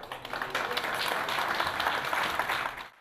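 Applause fills a hall at an EMERCOM awards ceremony for rescue workers, many hands clapping in a dense, steady stream for about three seconds before fading out.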